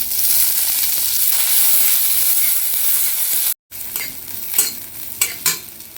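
Chopped onion sizzles and hisses loudly in hot mustard oil in a pan, with a brief pause and then scraping stirs and clinks of a spatula over the frying.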